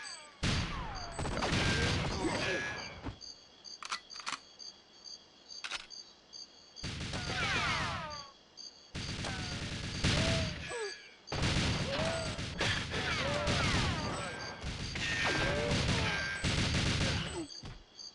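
Repeated bursts of automatic turret fire in GoldenEye 007 on the Nintendo 64, loud rattling volleys separated by short pauses, with occasional voice chatter between bursts.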